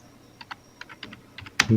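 Computer keys clack in short, uneven bursts while text is entered in an MS Excel spreadsheet, close and clear, ending with a louder knock, no voices.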